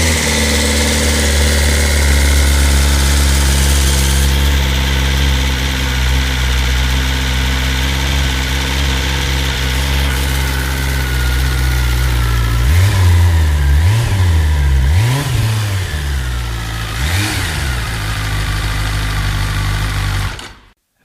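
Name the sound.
BMW S1000RR four-cylinder motorcycle engine idling and revving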